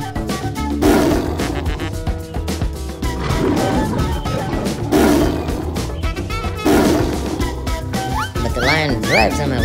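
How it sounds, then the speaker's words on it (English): Roaring of a bear fighting a lion in a cartoon animal scene, big repeated roars over a dense, continuous bed of dramatic music with crashing hits and a voice now and then. "The bear fights the lion."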